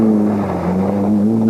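Nissan Sunny GTI rally car engine at the 1993 European Championship Rally of Cyprus, a steady loud droning tone holding a near-constant pitch throughout, with a slight pitch waver in the middle.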